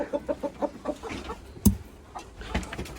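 Hens clucking in a backyard chicken coop, a rhythmic run of short clucks at first, then scattered calls with one sharp louder squawk, close by and alone.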